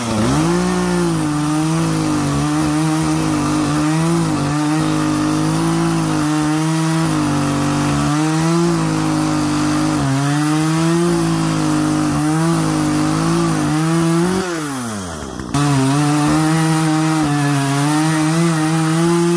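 A cheap small chainsaw with an aftermarket exhaust, bucking dogs and a full-wrap handle cuts through wood, its engine droning loud and steady with a brief dip and rev near the end before resuming the cut.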